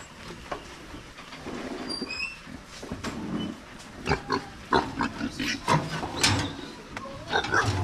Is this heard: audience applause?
no